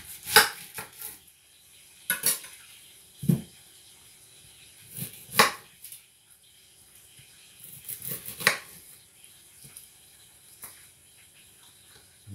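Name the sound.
chopping onions on a cutting board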